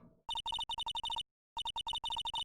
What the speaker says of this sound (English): You pressed redial on that there phone, didn't you?